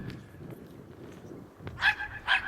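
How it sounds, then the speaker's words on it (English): Small yipping dogs play in light snow, with scattered short barks and yips over low rustling, ending in two louder, sharp yaps up close. "Got Walter playing with the yipper dogs again here."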